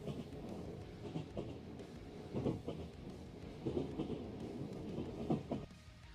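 A rolling train sound effect played at a gaming convention panel, a steady rumble with periodic clattering bursts, moderately loud and continuous, with no talk over it.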